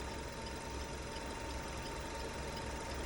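Engine of a Maruti Eeco van running steadily at idle, a continuous close mechanical hum with a faint knocking texture throughout and no voices.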